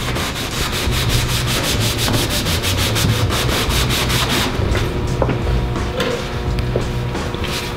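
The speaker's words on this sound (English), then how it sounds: "We're gonna try buffing it with some methyl hydrate." A mop soaked in methyl hydrate buffs graffiti off a metal surface, making a loud, continuous rubbing and scrubbing sound with quick back-and-forth strokes close to the microphone.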